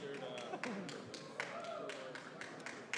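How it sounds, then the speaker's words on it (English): Applause at an African energy and green growth forum as a farm company managing director is introduced, sparse, distinct hand claps and taps fairly close, with faint talk beneath. "A round of applause for him, please"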